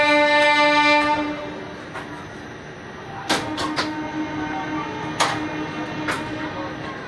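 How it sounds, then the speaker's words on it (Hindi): Kriya Yoga Express train running Howrah to Hatia, stopped at a station: a sustained horn blast opens, then scattered metallic clanks and knocks ring out over steady station rumble. "क्रिया योग एक्सप्रेस, हावड़ा से हटिया"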